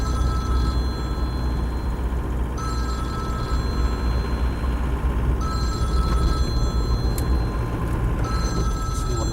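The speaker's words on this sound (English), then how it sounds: "Let my phone ring" A mobile phone rings in repeated bursts of bright electronic tones, several cycles evenly spaced, over the steady engine drone inside a moving Land Rover 90 County Station Wagon with a 200TDi diesel.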